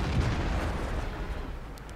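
World of Tanks gameplay with a heavy, rumbling tank cannon blast ringing out near and loud, its booming roar decaying slowly over two seconds with no voices.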